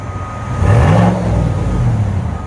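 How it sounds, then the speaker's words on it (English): A 2022 Chevy Silverado 5.3L V8 with a Borla ATAK exhaust revs up close, its rumbling exhaust note swelling, easing, and rising again. "That's how a truck should sound, man."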